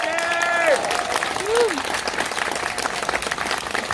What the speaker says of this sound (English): Will you give him a big round of applause?